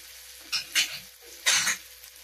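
Onions frying in a pan until reddish for a Maharashtrian moong birade curry, heard as a low steady sizzle broken by three short bursts of spoon stirring and scraping close by.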